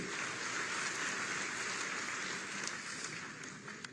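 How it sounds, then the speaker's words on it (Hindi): An audience at a Uttar Pradesh police recruitment ceremony applauds newly announced sub-inspector recruits, a dense, fairly faint wash of clapping that stays steady and then thins slightly toward the end. "आपकी तालियां कम नहीं चाहिए"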